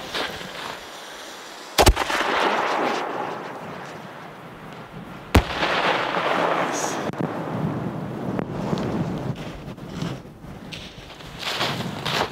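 Two 5-inch fireworks shells burst in a blizzard: two sharp, loud booms several seconds apart, with each blast followed by a rolling rumble under constant roaring wind buffeting the microphone.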